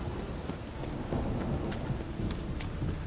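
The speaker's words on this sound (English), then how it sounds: "It's raining in Witcher" Rain and thunder in The Witcher video game, a steady wash of rainfall with low rumbling thunder underneath and scattered sharper drops, faint and continuous with no voices.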